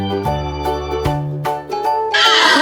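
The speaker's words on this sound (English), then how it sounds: "Horses make this sound." Horse neighing: a loud, close whinny with a pitched, wavering tone that breaks into separate bursts, ending in a harsher, noisier snort-like rush.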